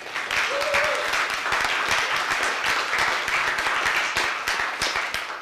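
Loud, sustained audience applause at a talk event, dense crackling claps from a close crowd that hold steady for the whole stretch.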